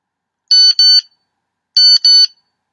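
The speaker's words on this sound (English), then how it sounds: "Be ready when the beeper goes off." A timer beeper sounds two short paired bursts of loud, shrill electronic beeping, a double beep followed after a pause by another double beep, with no other sound.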